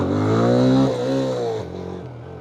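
A motorcycle engine revs steadily with a rising whine and then drops to a lower idle, heard close and loud while the bike is lifted, with no talk over it.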